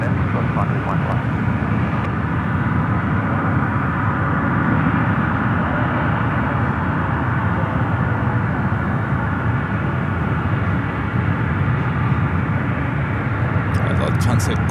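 A Lufthansa Boeing 747 taxis at San Francisco airport, its engines giving a steady, continuous roar at moderate distance that holds evenly throughout, with faint radio chatter mixed in.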